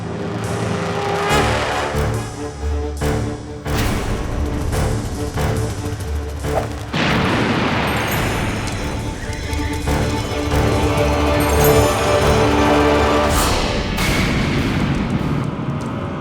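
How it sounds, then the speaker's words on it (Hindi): Several loud explosions set off near water burst out at irregular intervals over a busy, noisy background. "अब पानी के पास विस्फोट करके देखते हैं"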